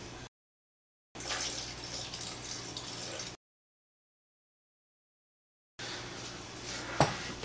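Organic apple juice is poured into a blender jug for a mango berry smoothie, a close, steady liquid gush in two separate bursts with a brief knock near the end.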